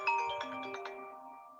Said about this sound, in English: Someone has a lovely ringtone.